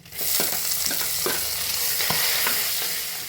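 Onions sizzling and frying in a hot pan, a steady loud crackle with a few scraping stirs of a utensil, no voices.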